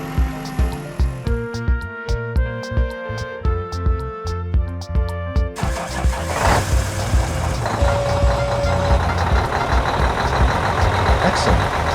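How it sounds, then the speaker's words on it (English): A forklift loading empty bottles onto a truck trailer, with a string of rhythmic reversing beeps up front, then a steady engine drone and rattling load noise as the machine works nearby. "we will load empty bottles onto the truck trailer using a forklift"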